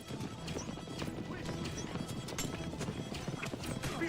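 Horses gallop in a chariot chase in the video game Assassin's Creed Origins, a dense rapid clatter of hooves with neighing, loud and continuous throughout.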